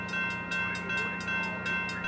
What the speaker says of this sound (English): ACE Train 5 is about to depart on time at 6:40 a.m.